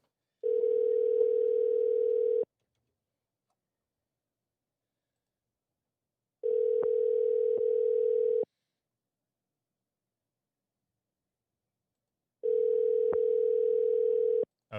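A telephone ringback tone sounds during a live stream call, three steady two-second tones separated by about four seconds of silence, clear and alone with no talking.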